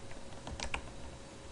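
Keys on a computer keyboard tapped in a short burst of quick clicks, fairly faint and close, with a steady low hum beneath and no talking.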